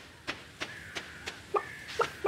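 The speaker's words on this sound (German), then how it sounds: "das war das Hühnchen" Soft, evenly spaced clucks from a chicken in the farming video game Stardew Valley, several short calls with a faint sustained tone beneath, quiet and with no talking.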